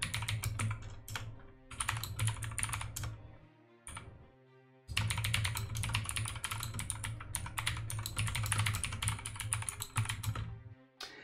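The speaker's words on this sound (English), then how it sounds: "is the keyboard noise still loud?" Fast, continuous typing on a computer keyboard, close and clear, with a brief pause in the middle before the clacking resumes.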